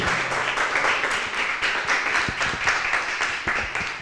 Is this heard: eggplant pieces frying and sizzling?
no